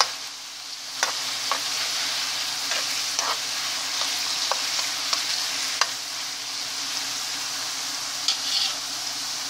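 Thin-cut potato fries sizzle steadily in hot oil, a dense continuous crackling hiss close by, punctuated by occasional sharp pops and stirring clicks.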